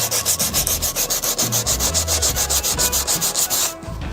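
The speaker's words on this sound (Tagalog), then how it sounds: "ililiha ko muna para pumatag yung mga may tama" Steady, rhythmic sanding strokes scraping back and forth on the metal of a 1980s Yamaha DT125 two-stroke motorcycle, close and loud, stopping abruptly near the end.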